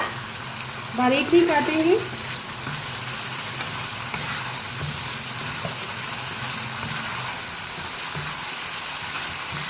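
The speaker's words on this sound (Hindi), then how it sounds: "अब इसको भूनेंगे अच्छी तरह से मसाले के साथ।" Four medium potatoes cut into large pieces frying with masala in a pan for Punjabi aloo palak, a steady soft sizzle throughout, with a brief clatter of stirring near the start and a person talking over it.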